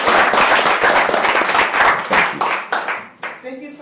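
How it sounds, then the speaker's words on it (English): A dense round of applause from a crowd, many hands clapping steadily before thinning out and fading toward the end. "So let's give Daquan a warm round of applause."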